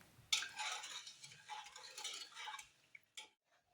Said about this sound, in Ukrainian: все розмішую та ставлю на вогонь.